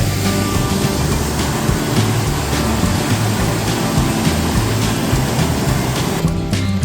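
Adam waterfall in the Tatra mountains roaring steadily nearby, a loud, continuous broadband rush of falling water that holds constant throughout before easing slightly at the very end.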